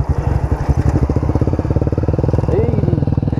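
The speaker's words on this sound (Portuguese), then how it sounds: "Não, minha moto tá amarrando sozinha." A Honda CBX 250 Twister and a 2018 Yamaha Fazer 250 racing. A loud, close, single-cylinder-style engine throbs steadily, with rapid pulsing beats and a brief higher whine partway through.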